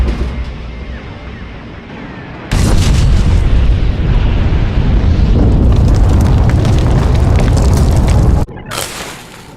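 Starship weapons fire and explosions in Star Wars: The Old Republic, with a sudden loud sustained roar of booming blasts that holds steady for about six seconds before cutting off, followed by a short burst.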